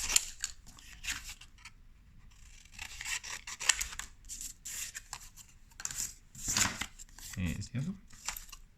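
Scissors cutting out paper hand shapes for a pop-up craft, a close series of quick snips and paper rustles in uneven bursts, with a voice talking over them.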